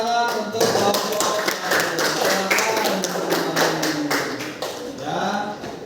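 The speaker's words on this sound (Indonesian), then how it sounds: "kasih tepuk tangan untuk kelompok" A classroom group is applauded after its presentation: dense, steady hand clapping from many students runs for about six seconds, loud and close, with no voices rising above it.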